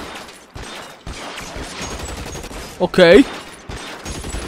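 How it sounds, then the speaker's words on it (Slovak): Rapid bursts of video game gunfire crackle amid game noise in L.A. Noire, with one louder volley near the end, while a person talks over it. "Tu nás ma už strieľajú z diaľky."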